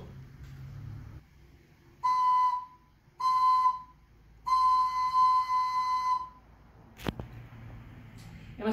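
Slide whistle in a classroom rhythm lesson sounding a few clear, bright whistled tones in a simple quarter-note pattern, separated by short gaps, followed by a sharp knock and faint room noise.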